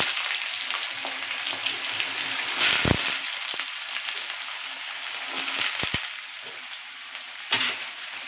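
Potatoes sizzle loudly in hot oil for a mini soybean and paneer dish, a steady bright hiss with a few sharp clatters and stirring knocks, close and alone.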